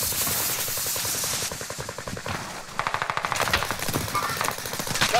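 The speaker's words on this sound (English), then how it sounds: "Taking heavy fire here." Heavy automatic gunfire in an online military shooter game, with rapid machine-gun bursts rattling continuously and loudly for several seconds, joined by a denser volley of overlapping shots partway through.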